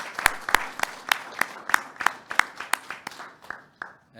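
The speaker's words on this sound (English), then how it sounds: "let's just give a big round of applause here for Tony" Audience applause for a speaker at a wastewater microbiology and process control talk, a run of about a dozen sharp, sparse claps spaced fairly evenly, thinning and fading toward the end.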